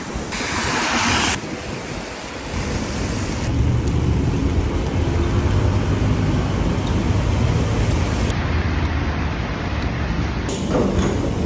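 Steady broadband rush of heavy rain in Singapore near an MRT station, constant and loud throughout, with brief shifts in tone as something nearby opens or moves.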